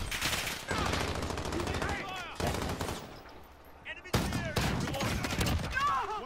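Video game gunfire in rapid bursts and fusillades, loud and close, broken by short pauses, with a player talking over the shots.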